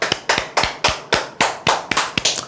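A small group claps hands in a coaching session, about eight spaced sharp claps with uneven rhythm, fairly close and loud, with no talking.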